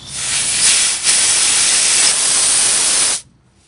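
Compressed air hisses loudly and steadily through a transmission valve body solenoid, an oil control valve, for about three seconds, then cuts off abruptly.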